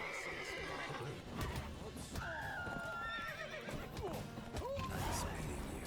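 A horse in The Witcher 3 whinnies in a drawn-out neigh with hoof clip-clops, set in a busy game scene full of ambient noise, with voices talking around it.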